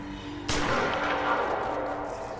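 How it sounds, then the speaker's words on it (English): A single gunshot in the video game Prison Architect with a military mod cracks sharply and loudly, then trails into a long, rumbling noise wash that fades slowly. "But they are still just a gunshot."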